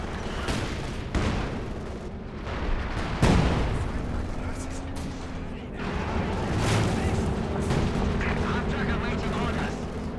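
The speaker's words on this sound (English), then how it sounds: "Looks like a Werfer barrage came in and got quite a few more kills" In Company of Heroes 2 gameplay, a Werfer rocket artillery barrage rumbles and booms through a dense battle soundscape, with one sharp loud blast and layered distant explosions under the game's background noise.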